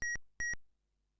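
Two short, identical electronic beeps, evenly spaced and crisp, come from the ZX Spectrum game Magic Treasure Adventure, then silence follows.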